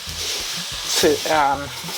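Sugar melting in a pan over low heat while being stirred, with a soft steady sizzle and scraping of the mixing, and a voice speaking over it.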